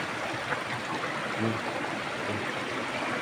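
Creek water runs steadily through the whole stretch, a broad continuous wash of flowing stream noise, close and even, with no talk over it.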